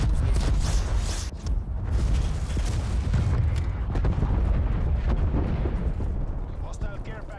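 A cruise missile blasts apart in a first-person shooter video game, heavy booming explosions and rumbling debris filling the clip, loud and dense, with scattered gunfire-like bursts and in-game radio voices mixed in.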